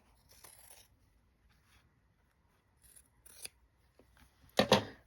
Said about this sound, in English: you can just cut straight down through there with your scissors